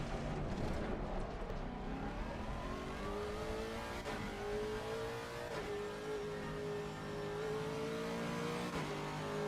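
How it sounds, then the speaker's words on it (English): Race car engine in Assetto Corsa Competizione at Spa, droning steadily and rising in pitch through the gears with short shift breaks, loud and continuous throughout, with no talk over it. "Engine sounds nice."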